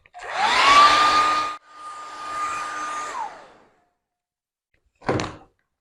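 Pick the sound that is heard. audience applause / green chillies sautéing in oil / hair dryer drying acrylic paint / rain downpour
hair dryer drying acrylic paint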